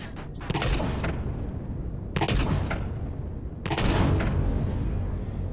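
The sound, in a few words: plasma cannons firing in video game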